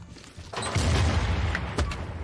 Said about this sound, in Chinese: 听着炮声真解气。